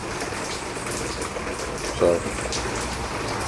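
Steady rain falls outside an open garage where a 1973 Chevy Nova is having its rear brakes worked on, a constant wash of droplets throughout with one brief louder knock and a short spoken word partway through.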